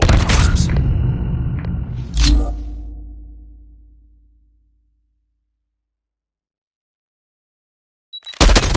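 A Predator missile strike in Call of Duty Mobile lands as one heavy boom after game noise and talk. A long rumble fades into silence before sound abruptly returns.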